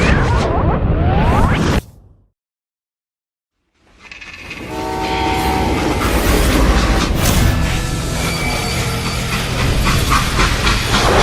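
A stopped steam train in the Call of Juarez: Gunslinger game lets out a loud, long hiss of steam after a brief silence, with rumbling, metallic train noise around it.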